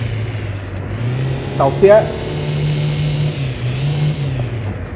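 Car engine in City Car Driving held at a steady mid hum, with a brief rising rev and dip during a gear change, under a person talking briefly.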